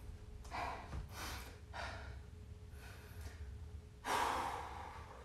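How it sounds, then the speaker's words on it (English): A person breathes heavily during a backpack workout, with a run of forceful, rhythmic breaths and exhales and a louder gasp near the end. The breaths are close and audible, with no speech. "I am breathing through this."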